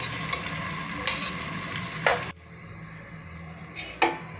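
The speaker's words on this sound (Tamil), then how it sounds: "இந்த வெங்காயம் எல்லாம் நல்லா ஒரு பொன்னிறமாக வர வரைக்கும் வதக்கிடலாம்" Onions fry in a pan for an egg biryani, hissing with a steady sizzle while a few stirring scrapes sound close by. The sizzle drops abruptly partway through, then one more scrape follows.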